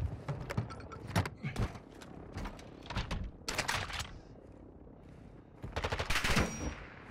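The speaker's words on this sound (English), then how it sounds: "There's a bot behind you, he's gonna shoot at you." Gunfire from a bot in the video game Warzone 2.0 crackles in rapid automatic bursts, loud and close, separated by short pauses, with no talking over it.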